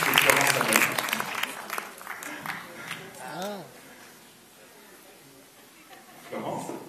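An audience at a presentation claps in a brief burst of applause that fades as people start talking, then a few more claps come near the end.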